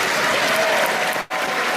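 Steady, dense applause from an audience at a folk music performance with musical saw and handbells, loud and continuous with a brief dip near the end before resuming.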